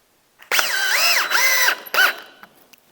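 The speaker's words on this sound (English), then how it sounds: "got the plywood cut. I'm just going to screw it on here quick" A power drill drives screws into plywood in a few close, loud bursts, its motor whining up and down as each screw seats, with short pauses between runs.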